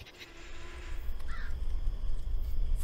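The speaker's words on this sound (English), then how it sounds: "These crows are so loud." Crows in the horror game Sign of Silence give a few loud, harsh caws over a rising, rumbling ambient background, with no talk during the calls.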